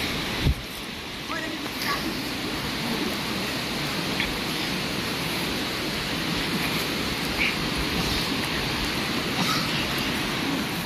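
Steady, dense rushing of fast-moving river water fills the scene without letup, loud and close, with a few faint knocks over the top.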